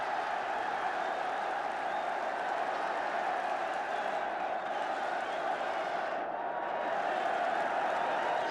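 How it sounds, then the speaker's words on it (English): Manchester United supporters applauding at a football match against Southampton, with sustained distant clapping and crowd noise from a large stadium, steady and even throughout. "So the turn of the United supporters to applaud as McQueen applauds the kicker."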